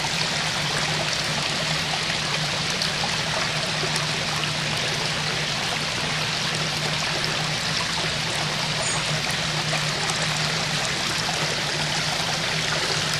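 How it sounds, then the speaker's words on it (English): Continuous steady trickle and splash of water flowing down a small DIY trickle-filter stream into a backyard koi pond, close and even throughout, with no voices. "This is this little stream right here. But it filters a lot of this pond."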